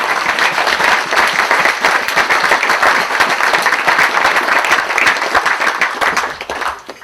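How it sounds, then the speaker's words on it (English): Crowd applause at the 2016 Sheriff's Ride in Lichfield: dense, steady clapping from many hands that holds for about seven seconds, then tapers off at the end. "Can we give him a round of applause, please?"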